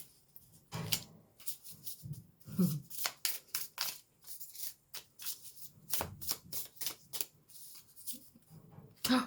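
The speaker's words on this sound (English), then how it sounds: "You saw me shuffle. I shuffled beforehand." Oracle cards being shuffled by hand give repeated crisp riffling bursts and soft slaps, close and quiet, in an irregular rhythm with short pauses between passes.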